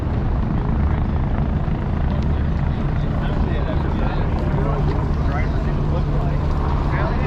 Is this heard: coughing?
no